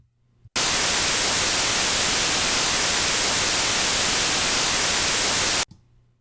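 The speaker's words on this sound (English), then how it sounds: "the white noise being generated by our digital audio workstation" White noise from a digital audio workstation's signal generator: a steady, loud, full-band hiss that starts abruptly, holds flat for about five seconds and cuts off sharply, with quiet room hum before and after.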